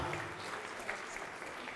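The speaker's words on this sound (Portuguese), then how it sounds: "vamos aplaudir ao nome do Senhor" A church congregation applauds in worship, a steady wash of clapping from many hands that runs quietly and evenly throughout without breaks.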